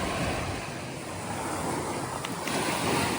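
Sea waves washing onto the shore, a steady broad roar of surf mixed with wind buffeting the microphone, close and continuous.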